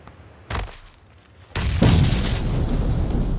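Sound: grenade explosion in PUBG video game

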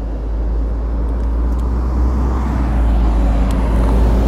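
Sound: bus driving past

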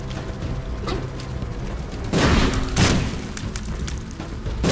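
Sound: explosions in The Binding of Isaac video game

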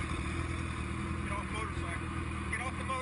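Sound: motorcycle engine during police traffic stop

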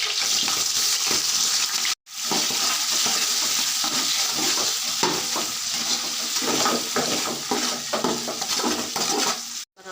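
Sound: stirring onions and biryani spices frying in a pot

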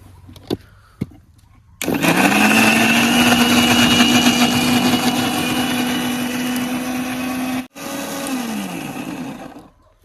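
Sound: mixer grinder blending tomatoes for gravy

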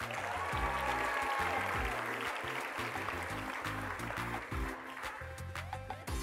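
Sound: audience cheering and applauding

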